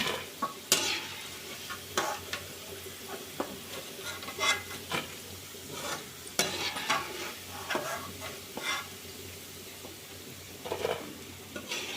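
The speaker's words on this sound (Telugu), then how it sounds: "ఇక తీసేస్తున్నాను పకోడీ ఇట్లా వేగాలన్నమాట" Cauliflower pakoda fry in hot oil under a soft, steady sizzle, broken by scattered scraping clinks of a spoon stirring and lifting pieces from the pan, fairly quiet and close.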